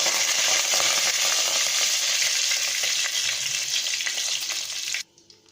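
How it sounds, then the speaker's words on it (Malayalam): Mustard seeds and curry leaves sizzle loudly in hot oil in a pan, a dense continuous crackle with scattered pops close by, cutting off abruptly near the end. "കടുക് പൊട്ടിയിട്ടുണ്ട്"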